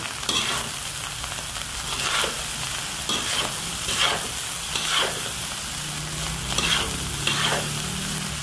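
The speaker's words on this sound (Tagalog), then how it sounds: "Kailangan natin siyang haluin ng haluin para hindi siya didikit doon sa ilalim." Fried rice stirred in a pan, with a steady sizzle and a spatula scraping in repeated strokes roughly every second, close and alone with no talk.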